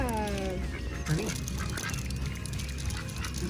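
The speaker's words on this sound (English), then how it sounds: "see the ducks" Ducks quack repeatedly at a family farm, several loud nearby calls mixed with honking fowl against open outdoor ambience, while people talk in the background.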